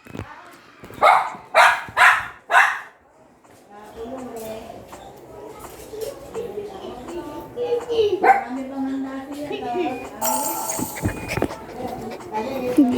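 Happy, a pet dog, lets out three loud, sharp barks close by at the start, followed by people chatting over faint household noise.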